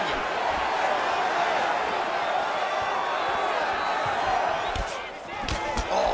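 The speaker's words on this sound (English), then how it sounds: "You hear this crowd just eating out of his hand, oohing and on every time he advances." A boxing-match crowd in the UFC 4 fight game, Adesanya against Pereira, keeps up a steady loud roar of cheering and oohing, with sharp thuds and slaps of strikes landing in the foreground.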